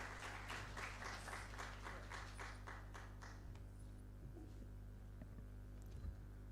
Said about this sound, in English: A big round of applause in welcoming Ms.